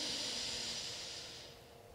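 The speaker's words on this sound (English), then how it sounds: "Breathing in." A long, breathy hiss of air drawn in through one nostril, close and soft, fading gradually toward the end with no talking.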